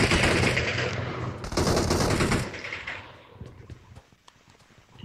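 Dense automatic gunfire from the mobile game BGMI rattles loudly in rapid bursts, then thins into scattered fainter shots as the fighting dies down.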